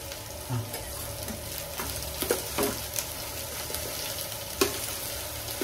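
Tomatoes go into a pan of frying onions and sizzle softly while a utensil scrapes and stirs, with a few sharp clacks against the pan over a low background hum.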